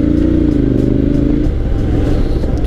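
A Honda X-ADV 750 automatic scooter-style motorcycle with a 750cc engine accelerates on a test ride, its loud, close engine note climbing in pitch, then shifting and growling on steadily with a rough, throaty edge.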